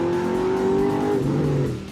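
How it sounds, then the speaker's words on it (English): A race car engine rated over 740 horsepower roars loud and close at Fontana, its harmonic engine note holding steady then dropping in pitch as it shifts. "You start the engine and it just sounds so mean"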